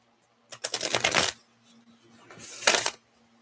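Tarot cards being shuffled in two quick riffling bursts, close and fairly loud, separated by a short pause, with no talking.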